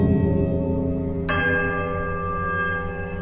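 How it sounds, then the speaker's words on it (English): Heavy iron bell in a ruined temple in the game Pillars of Eternity, struck once partway through and ringing out with a long sustained metallic chime over a low droning tone. "ring the right bell once more."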